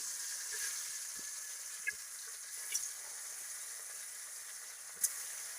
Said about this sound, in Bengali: মাছ ভেজে নিতেছে।